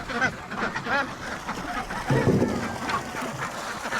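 Ducks quack on a farm during calm morning chores, a mix of repeated nasal calls rising and falling across the scene with a low scuffling burst in the middle; a person speaks briefly in the background.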